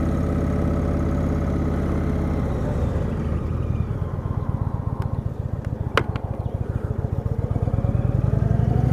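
A 2016 Indian Springfield motorcycle engine runs close by, a steady idle that settles into a throbbing, evenly pulsing beat, with no talking.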